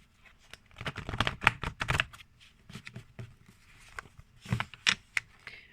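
Tarot cards being shuffled close up, a run of quick riffling and slapping bursts with brief pauses between them, no voices over the sound.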